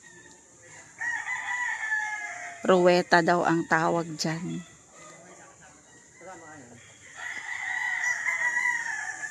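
Roosters being tested for fighting fitness on a farm crow loudly several times in a row at close range, with people talking before and after the calls.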